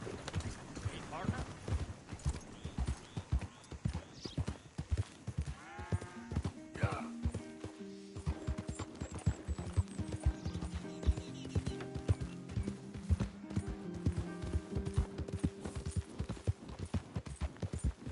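Horse hooves clip-clopping at a steady rhythm while riding in Red Dead Redemption 2, with game character voices and background music over the hoofbeats.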